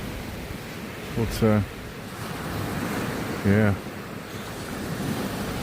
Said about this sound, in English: Good bit of white water splashing around, look.